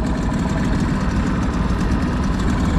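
A boat engine idles on a Jamaican fishing trip, a loud, steady low throbbing drone close by that runs unbroken without talk.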